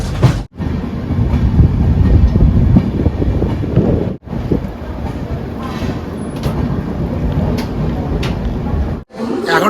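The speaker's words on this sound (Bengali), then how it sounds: "ট্রেনটি ঢুকে যাচ্ছে মালদা টাউন স্টেশনে" Shatabdi Express train rolling into Malda Town station, a loud continuous rumble with clattering wheels on rail joints and wind buffeting the microphone, broken by brief dropouts.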